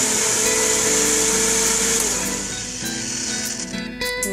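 A blender whirs steadily as it purees tomatoes and water into a liquid for Mexican chicken soup (sopa de pollo), a loud continuous motor drone with a slight dip in pitch partway through.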